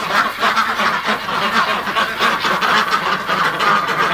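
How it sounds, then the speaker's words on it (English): A crowd of ducks packed inside a shelter on a cold day quack and honk continuously, a dense, loud chorus of overlapping calls. "There's so many ducks in here."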